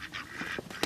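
Ducks quack in a room in a short, dense burst of raspy calls close by, several overlapping within under a second.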